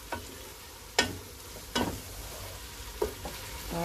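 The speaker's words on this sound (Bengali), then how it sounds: "একটু নেড়ে দিই।" Vegetables being stirred in a hot pan for vegetable fried rice: a soft sizzle runs under four or five sharp scrapes and clatters of the spatula at uneven intervals, close and fairly quiet, with no talk.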